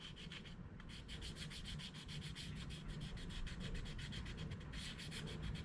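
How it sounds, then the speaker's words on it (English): Soft, rhythmic back-and-forth scratching of very light hand sanding on a grill hinge, steady and close, with no voices. "It's some very, very, very light sanding."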